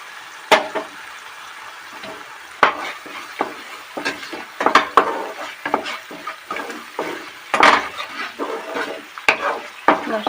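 Chicken masala with chili powder and Kashmiri red chili powder fries in a pan, with irregular scraping strokes of a spoon over a close, constant sizzle.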